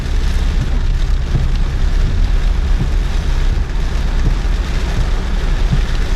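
Heavy rain pours down in a steady, loud rush with a low rumbling underneath, continuous and uninterrupted.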